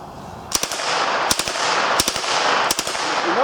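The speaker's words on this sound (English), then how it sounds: "notice the rate of fire so low, unlike most 22 kits, I'm getting nice little bursts." Short bursts of automatic fire from a Thompson submachine gun with a .22 conversion kit, four quick bursts of a few rounds each at a slow cyclic rate, loud and close over steady outdoor noise.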